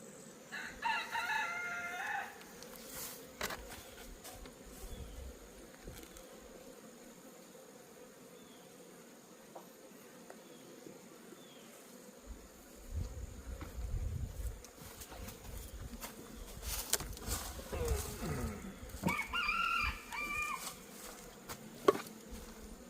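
Honey bees fly around backyard hives in fall, a faint continuous buzz under outdoor ambience, with a rooster crowing in the distance twice and some handling noise.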